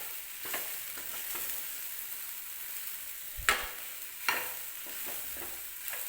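Susla, a Karnataka puffed-rice breakfast, is stirred and mixed in a pan over low heat: a quiet continuous sizzle with a few distinct spatula scrapes and knocks, close by and without voices.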